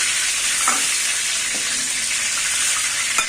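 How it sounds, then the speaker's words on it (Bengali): Shrimp fry in hot oil for Bengali-style potol chingri, giving a loud, dense, unbroken sizzle close by with a few faint clinks from stirring. "মোটামুটি ভাজা হয়ে এসছে চিংড়ি মাছ আমি বেশি ভাজবো না"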